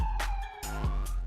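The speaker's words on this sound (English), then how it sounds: "A distant screeching sound of a siren cut through the murmuring of the crowd" A distant emergency siren rises and falls over a steady low hum, with brief sharper bursts punctuating the wail, heard from afar through a murmuring crowd after an accident.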